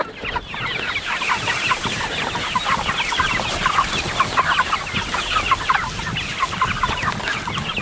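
A flock of chickens clucks continuously and busily nearby on a small farm, a dense chorus of overlapping calls at steady loudness.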